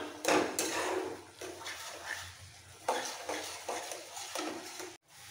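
Grated fresh coconut cooked down with sugar in a pan for narkel naru, scraped and stirred in repeated rough strokes with a soft sizzle underneath, close and fairly loud, no voices.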